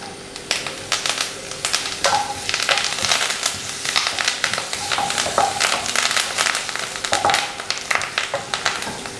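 Crushed cumin, pepper and curry leaves frying in a pan for Kerala rasam, a loud dense crackling and spattering with sharp pops, steady and close for the whole stretch.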